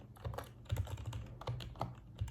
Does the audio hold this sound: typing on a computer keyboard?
yes